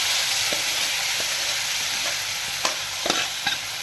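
Spoon stirring cooked drumstick greens into a pan of dal rasam, a steady sizzling bubble with soft intermittent scrapes and taps, close and alone with no talk.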